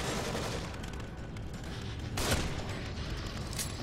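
Gunfire in the horror game The Evil Within, a dense continuous barrage with one sharper blast near the middle, loud and close throughout with no talking.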